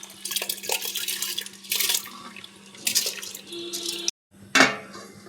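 A metal lid clanks down onto a cooking pot of boiling water with washed rice for mixed-dal khichuri. Before it, running water and pan clatter; after a brief silence comes the sharp, ringing close of the lid.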